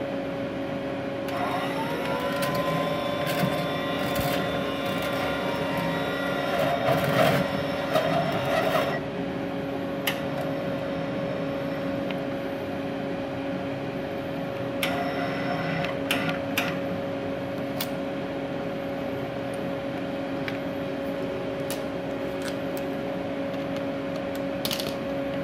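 MIG/MAG 200G multi-process welding machine feeding wire with the inching button, producing a steady motorised hum with a rising whine and clicks near the start, close by and mostly alone.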